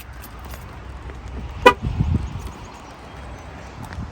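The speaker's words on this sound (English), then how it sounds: "I'm even gonna lock the car just for measure." A car horn chirps once as a vehicle is locked, a short bright toot at a parked car on a road trip, standing clearly above low idle rumble and faint outdoor background.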